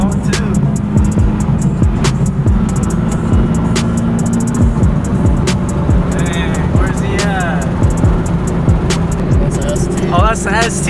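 A Ford ST car drives by on a street, its engine audible over constant road and engine noise along with scattered clicks; people talk throughout.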